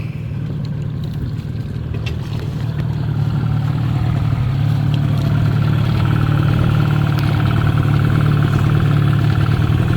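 Boat outboard motor running steadily off a Philippine beach shore, a continuous low droning hum at constant loudness, close and dominant throughout, with no voices.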